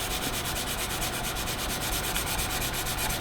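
A colored pencil scratches across paper with rapid, rhythmic back-and-forth strokes, a steady close, dry rasping texture with no voices.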